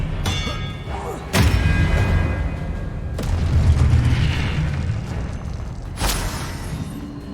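Expelliarmus spells cast during a fight in Hogwarts Legacy on PS5, a few sharp magical cracks with bright ringing impacts standing out over a steady rumbling battle backdrop.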